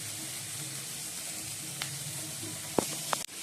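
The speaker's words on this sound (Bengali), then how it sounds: "এই বন্ধুরা আলুগুলো ভাজা হয়ে গেছে, দেখো লাল লাল করে ভেজে নিয়েছি।" Steady sizzling of potatoes frying in hot oil, with a few faint clinks and scrapes near the end.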